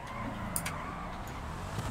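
A cheap two-door sedan in the video game GTA V, its engine a steady, moderately loud hum with no sharp revving.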